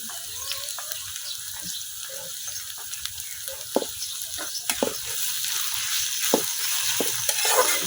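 Onion and green chili frying in a pan in a village kitchen, a continuous soft sizzle broken by scattered spatula scrapes and stirring clicks, fairly close and without talk.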